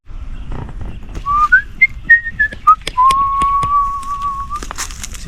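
A person whistles a short melodic phrase of rising and falling notes and then holds a long steady tone outdoors on a farm harvesting string beans, close and clear over faint background clatter.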